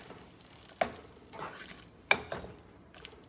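Ground masala being stirred into a cauliflower and potato gravy in a pan: quiet bubbling and sizzling broken by a couple of sharp spoon knocks against the vessel and brief scraping strokes, close and fairly soft.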